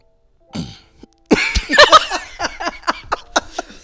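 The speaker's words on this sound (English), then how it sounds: "You do not have to cough." One cough rings out, then after a short pause a quick run of harsh, choppy coughs and snorts, close and loud.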